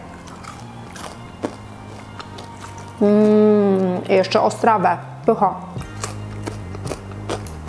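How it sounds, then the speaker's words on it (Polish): Homemade banana chips crunched close up, a short burst of crisp bites and chewing that sits among brief spoken comments and an appreciative hum. "jeszcze przy Was przechrupię mojego chipsika"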